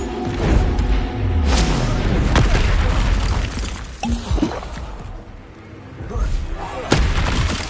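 A Bombarda spell explodes in the Hogwarts Legacy video game, delivering heavy booming blasts and deep rumbling impacts amid other spell effects, loud and close, with some voice mixed in.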